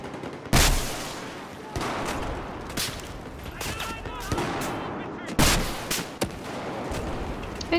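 Rocket launches and explosions in Battlefield 4 on Operation Metro in Conquest mode, several sharp loud bangs spaced a second or two apart over a busy backdrop of battle noise and background voices.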